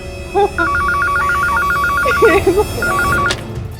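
A home landline telephone rings in repeated electronic trilling bursts, pausing once and resuming briefly, with a voice speaking faintly over the ringing.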